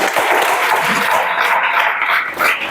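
Students in a police-recruitment coaching class break into loud, steady clapping, a thick burst of many hands that holds for about three seconds with no talking.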